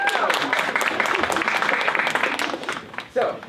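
Audience applause at a college jazz ensemble concert, a sustained wash of clapping over a few seconds that tapers off, with a voice speaking over the end.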